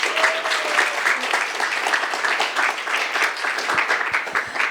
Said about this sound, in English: so if we could have a big round of applause for him.